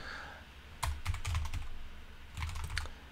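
Quick bursts of keys clattering on a computer keyboard, two clusters of rapid typing separated by a short lull, close and clear.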